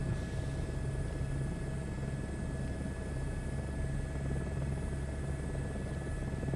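A steady helicopter rotor drone in Microsoft Flight Simulator 2024 with a constant low thrum and engine whine, continuous and even throughout, no voices.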